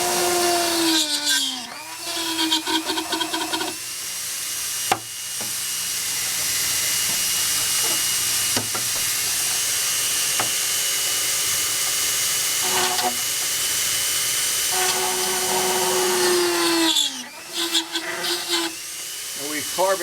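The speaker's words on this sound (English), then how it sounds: "Some of the fairing mount holes I'm going to drill out for Glenn." A drill bores out mounting holes in a motorcycle fairing, a long, steady, close whining hiss broken by short start-and-stop spin-ups at each end.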